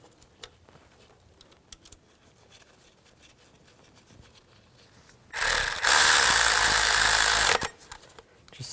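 A power tool whirs steadily for about two seconds while snugging intake gasket bolts on a 2003-08 Nissan Maxima, loud and close after a stretch of faint clicks and handling noise.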